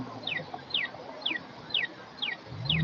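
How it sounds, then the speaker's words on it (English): A pedestrian crosswalk signal for visually impaired walkers on a city street at night chirps six times, each a short, sharp, falling chirp at an even pace of about two per second, close by over faint street background. "They tell me the chirps are for the visually impaired."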